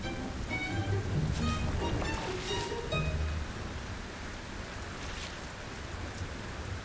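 Steady rain falls in a city, a dense even hiss of drops on hard surfaces with a few brief louder spatters, moderately faint and constant, with no talking.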